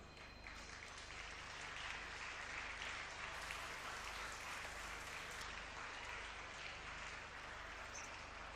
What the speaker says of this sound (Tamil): அம்மா அங்கே இருக்காங்க பாருங்க, கைத்தட்டல் கொடுங்க.